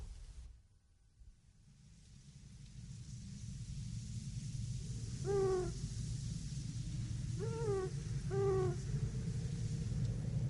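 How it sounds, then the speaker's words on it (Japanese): Owl hooting at night in a radio drama scene, three separate quavering calls over a steady low background rumble, fairly clear and mid-distance. "フクロウが鳴いてるんだ。"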